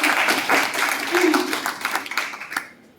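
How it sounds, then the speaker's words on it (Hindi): An audience at a monthly meeting gives a round of applause, a dense burst of clapping that tapers off after a few seconds, fairly close. "तो मैडम खैरा के लिए एक बार तालियां बजा दो।"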